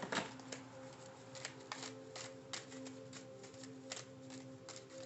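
Tarot cards being shuffled by hand close up, a soft run of papery riffles and taps in an irregular rhythm, faint and alone with no talking.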